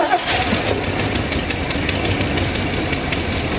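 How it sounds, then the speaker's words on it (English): A 1976 Mercury Marquis engine cranks and catches, settling into a loud, rough, continuous running roar close by with some knocking texture. "Go ahead and crank it, Terry."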